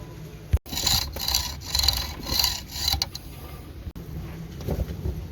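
Metal bolts for solar panel railings are being cut with a run of rhythmic, rasping back-and-forth strokes, close and fairly loud, with a couple of sharp knocks between passes.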